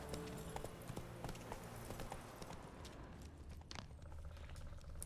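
Clip-clopping hooves of Roach, Geralt's horse in The Witcher 3, a fairly quiet, steady trot of hoof beats over soft in-game background sound.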